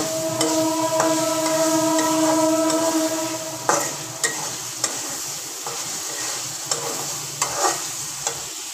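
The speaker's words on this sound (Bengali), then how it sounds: "শুটকিগুলো একটু কষিয়ে নিব।" Dried fish stir-frying in a hot pan for a Bengali dish, with a steady sizzle, several sharp scrapes and knocks of the spoon against the pan, and no talking.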